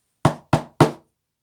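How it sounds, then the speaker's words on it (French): Three firm, evenly spaced knocks on a workshop door ring out close and clear, each a sharp woody thud that decays quickly, followed by silence. "Mina frappe à la porte de l'atelier."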